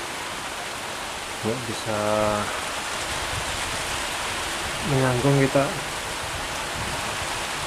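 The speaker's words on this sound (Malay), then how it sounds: "Lumayan lebat hujannya." Heavy rain pours down steadily outdoors near a shelter hut while hunting waterfowl, a dense hiss throughout with someone talking briefly over it.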